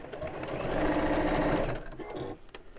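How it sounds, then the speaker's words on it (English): A sewing machine runs steadily, stitching binding onto fabric with a continuous loud whirring hum that slows and stops near the end, followed by a few faint handling clicks. "bring the sewing machine over. Right, then let's get it going."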